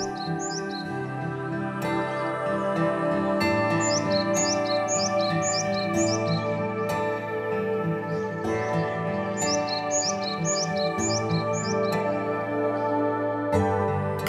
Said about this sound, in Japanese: 鳥のさえずりも聞こえてきます